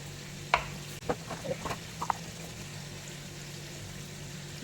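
Mustard seeds sizzling in hot coconut oil in a pan, a soft continuous fizz punctuated by a few faint pops and crackles over a low background hum.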